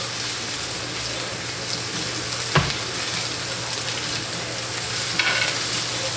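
Food fries in hot sizzling oil, a loud steady close crackle with a brief knock partway through and a low hum underneath.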